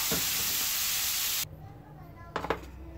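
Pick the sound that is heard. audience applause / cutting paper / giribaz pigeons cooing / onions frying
onions frying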